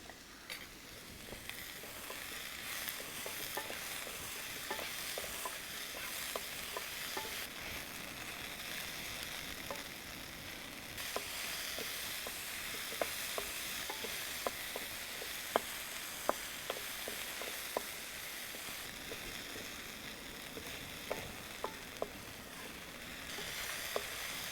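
Bilimbi sautés with salt in a pan, a faint continuous sizzle with scattered light ticks and taps of stirring throughout; no talking.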